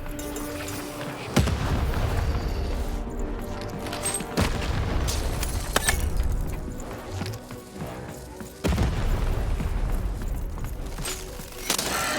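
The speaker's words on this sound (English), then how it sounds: "Shoot the button to fire the cannon." Cannon blasts in the video game Lost in Random: three loud booming shots spaced a few seconds apart, each a sharp broadband impact over a dense, continuous bed of game music and ambience.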